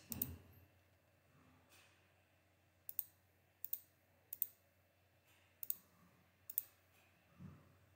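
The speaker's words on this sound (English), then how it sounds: "The mouse clicks on two points." Computer mouse clicks in garment CAD software, a series of sharp, isolated clicks in pairs and singles spaced across a quiet background, fairly close and crisp.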